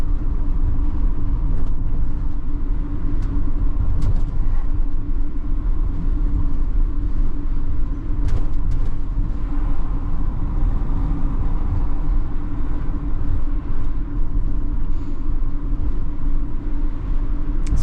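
A Tesco delivery lorry rolls down a quiet road, its engine and tyres giving a steady low rumble with occasional knocks and rattles as the cab bounces, heard from inside, continuous throughout.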